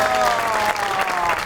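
Studio audience on a Pakistani comedy talk show bursts into sustained applause, a dense steady clatter of clapping with some crowd noise lasting the whole moment.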